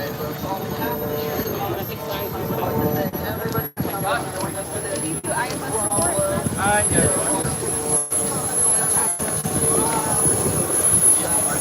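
An F-16 fighter jet on approach to land at the Wings over Houston 2025 airshow, its engine a loud continuous roar with a high whine, heard over crowd noise and a public-address commentator talking.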